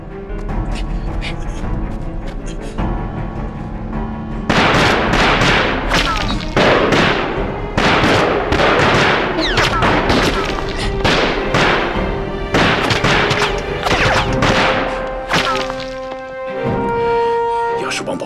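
Gunfire in a war drama battle scene of Chinese soldiers assaulting a Japanese army blockhouse, loud dense bursts of shots and thuds over several seconds, with shouting voices and music between volleys.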